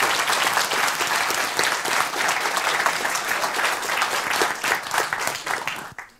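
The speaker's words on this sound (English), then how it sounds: "All right. Applause." Sustained audience applause fills a conference hall at a game-developer lightning-talk session, a dense steady wash of many hands clapping for about six seconds before cutting off abruptly at the end.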